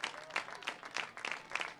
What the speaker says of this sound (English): The crowd that's stuck around tonight claps in unison.